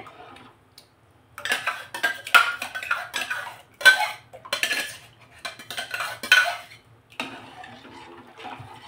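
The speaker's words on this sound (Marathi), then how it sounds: "तर एका हाताने असं हलवायचं किंवा फिरवायचं" A spoon stirs poha paste into water in a metal pot, giving a string of close, uneven scraping and clinking strokes with brief pauses between them.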